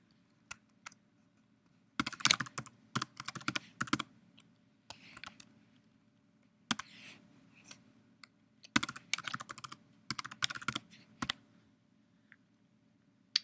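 Quick, light keystrokes tap out a password on a computer keyboard in short clustered bursts separated by brief pauses, crisp and close against a faint low hum, with no voice present.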